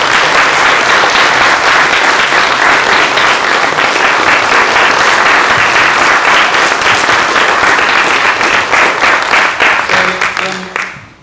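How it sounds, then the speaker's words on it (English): Loud, sustained applause from the audience at a youth parliament results and presentation evening, clapping rolling on evenly for several seconds before tapering off at the end. "And if you can give her a round of applause."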